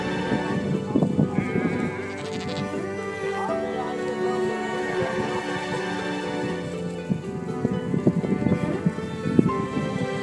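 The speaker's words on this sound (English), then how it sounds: "All this man has to do is call, and his sheep come running" Many sheep bleat over one another in a continuous chorus, with scattered hoof patter as the flock moves, loud and close throughout.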